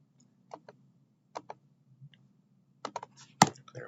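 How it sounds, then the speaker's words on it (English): Sparse keyboard shortcut keystrokes typed during a digital drawing session: a few isolated taps, then a quick cluster of sharp clicks near the end, close and quiet over a faint low hum. "One more keyboard shortcut if anything is in the wrong order."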